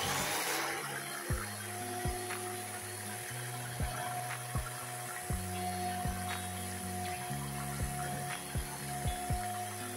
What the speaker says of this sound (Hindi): अब मैं इसे इलेक्ट्रिक बीटर से थोड़ा सा बीट कर दूंगी।